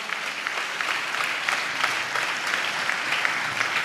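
Sustained applause from a church congregation, steady dense clapping held at an even level throughout, fairly near and loud with no speech over it.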